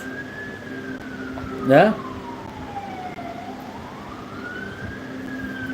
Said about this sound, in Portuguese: É muita sirene essa avenida, gente.